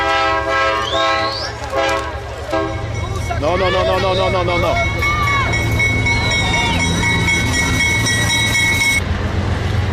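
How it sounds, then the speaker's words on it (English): A freight train hauling cars rolls past with a steady low rumble, its horn blaring in sustained tones near the start and again midway, while someone talks repeatedly over the noise. "This is a train carrying cars, so it's not going to stop."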